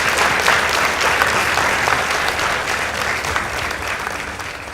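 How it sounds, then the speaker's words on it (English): A school auditorium crowd gives sustained, dense applause for a high school debate team, loud and steady throughout with no breaks. "Please give them a round of applause."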